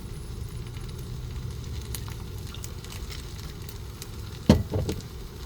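Fried rice with egg stirred in a pan over a propane burner, a soft continuous sizzle with a few sharp scrapes and clanks near the end, no talking.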